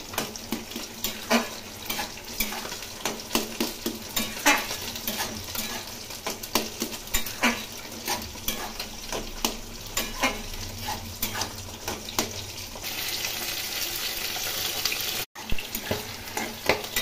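Bottle gourd curry with green chillies sizzles in a pan while a spoon stirs it, giving repeated scraping strokes over a constant frying hiss, close and fairly loud.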